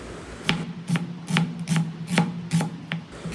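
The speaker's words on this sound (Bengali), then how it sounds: "পেঁয়াজটাকে এইভাবে স্লাইস করে কেটে নেব আমি" A knife slices through an onion on a board in a home kitchen, about eight crisp, evenly paced cuts, each a short sharp crunch landing close and clear with no talking.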